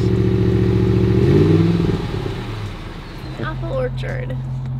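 A modified Ford Raptor engine idles loudly nearby, its deep rumble swelling briefly with a little throttle before settling back, while people talk over it.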